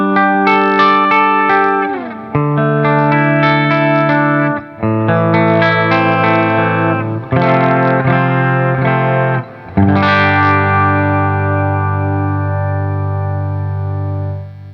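Cheap Les Paul-style electric guitar on the bridge pickup with slight overdrive, strummed chords ringing out alone in a few sustained phrases with brief breaks, played loud and close with a touch of chorus and echo.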